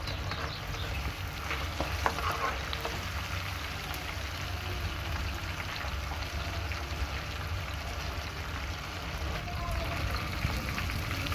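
Chicken pieces, marinated for KFC-style fried chicken, frying in oil over a medium flame, giving a steady, even sizzle with soft crackles that run the full length without pause.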